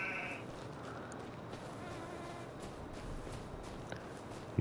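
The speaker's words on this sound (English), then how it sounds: "You could hear the bugs in the background." Insects buzz steadily in the background of a Farming Simulator 25 countryside scene, a faint continuous hum with occasional brief higher chirps, with a few faint sheep-like bleats mixed in.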